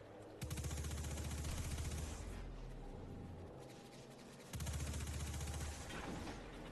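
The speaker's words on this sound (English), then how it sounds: "Now I can shoot all the things." Gunfire in Destiny 2, a steady rapid stream of shots over a low rumbling drone that runs through the clip, loud and close, with a short break in the middle before it resumes.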